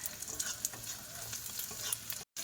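Panch phoron spices crackle and sizzle in hot oil, a dense close hiss with tiny pops that cuts out briefly near the end.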